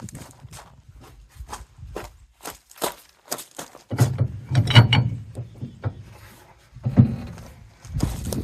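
A wrench works the nut on a trailer hitch ball mounted sideways in its tongue, giving a series of sharp metallic ratcheting clicks and clanks, irregular at first then heavier and denser as the nut is forced, close and fairly loud.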